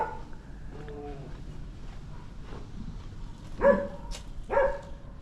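A dog in a narrow Macau alleyway gives a few scattered barks, rising to two louder, sharper barks near the end, heard at moderate distance against quiet outdoor background.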